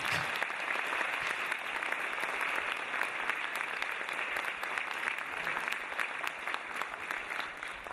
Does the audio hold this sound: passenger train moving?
no